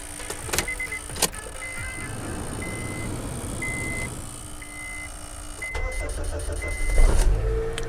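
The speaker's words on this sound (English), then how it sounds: "Okay, the car started." Engine of a Honda Accord cranking and settling into a steady idle, heard from inside the car, with a rhythmic electronic chime pulsing over a low rumble and a few sharp knocks near the start.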